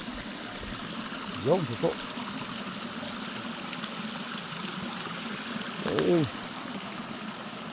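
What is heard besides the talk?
flowing stream water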